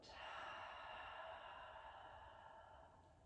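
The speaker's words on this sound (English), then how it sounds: "and a big breath out." A long, deep breath is let out slowly during a yoga session, a soft breathy hiss that starts strong and fades gradually, close and quiet with no talking.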